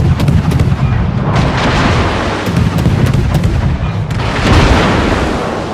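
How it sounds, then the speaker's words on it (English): Naval gunfire in the game World of Warships during a clan battle, heavy booming salvos that roll together into a loud, continuous barrage with some sharper cracks. "I got crossfire coming at me"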